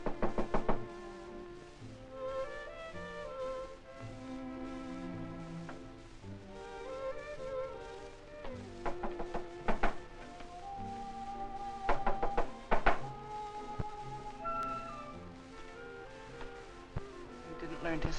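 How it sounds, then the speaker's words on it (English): Knocking on a door in a 1947 adventure film: a series of sharp knocks scattered among orchestral music, with people talking over the scene. "Isn't someone knocking?"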